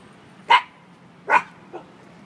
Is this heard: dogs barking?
yes